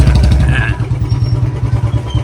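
A Royal Enfield Bullet motorcycle engine thumps close by in a steady, rapid, loping rhythm, loud and heavy, with faint clatter on top.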